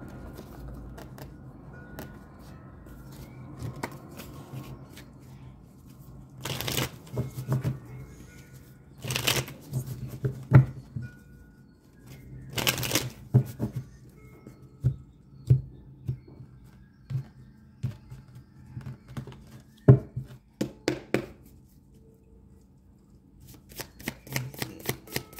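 Tarot advice cards shuffled by hand, a series of crisp riffling bursts with short pauses between them, close and clear, with no talking over them.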